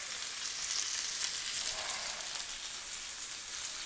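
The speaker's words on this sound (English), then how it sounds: "You want to hear that sizzle. That's how you know It's gonna give it a good caramelization on the meat" A chuck roast sears in a hot pan, giving a loud, continuous crackling sizzle up close with no pauses and no voices.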